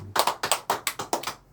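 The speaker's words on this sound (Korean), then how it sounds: "박수 한번 칩니다. 박수." A church congregation claps during a Sunday service, with about eight sharp, close hand claps in a quick, uneven rhythm that stop abruptly.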